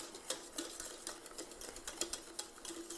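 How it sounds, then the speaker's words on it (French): A spoon stirs syrup in a saucepan with soft, repeated scraping and light clinking against the metal, faint and close, in an irregular rhythm without talk. "je mélange toujours bien la casserole"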